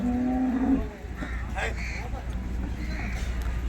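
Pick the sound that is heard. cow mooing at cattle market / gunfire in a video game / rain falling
cow mooing at cattle market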